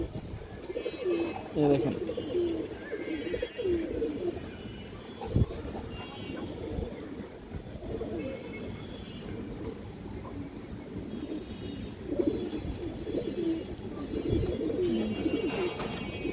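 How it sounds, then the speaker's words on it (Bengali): A breeding pair of dopas pigeons, hen and cock with red eyes, coos repeatedly at close range, the soft throaty calls running under a voice talking throughout. "এটা মাদি কবুতর, এটা নর কবুতর"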